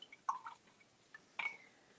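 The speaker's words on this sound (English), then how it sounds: "We'll go with a handy dandy kimchi jar here and just kind of get that sucker rinsed out." A paintbrush is swished and rinsed in a glass kimchi jar of rinse water, making a few small sloshes, drips and trickles spaced apart over quiet, close and faint.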